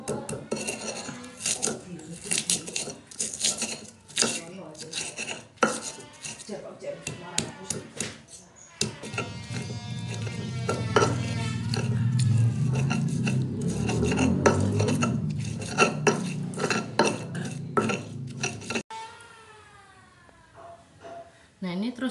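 Chili, garlic and shallots ground with a mortar and pestle, steady scraping and grinding strokes with clinking, occasional talk over it.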